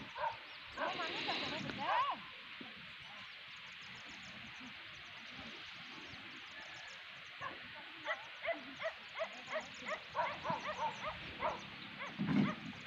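A dog barks in a quick series of sharp yips near the end, fairly distant over a steady outdoor hiss, with people talking earlier in the clip.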